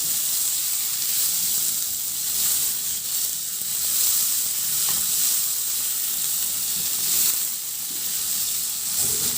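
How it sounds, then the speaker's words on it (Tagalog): Tomatoes sauté with squash in a pan, giving off a continuous bright sizzle and hiss, with gentle swells as the mixture is stirred. The sizzling is close and fairly loud, with no voices. "Ihalo lang din hanggang sa maluto yung kamatis."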